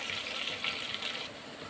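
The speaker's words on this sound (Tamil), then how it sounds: "இந்த தண்ணியை கொஞ்சம் வடிகட்டிட்டு" Cooking water from bottle gourd and lentils for a sambar is strained off, making a steady, close gushing pour that runs without a break and has no talking over it.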